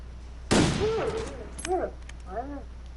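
A single sharp pistol shot cracks out loud in The Long Dark, its echo trailing off, followed by a few faint vocal-like calls and murmurs.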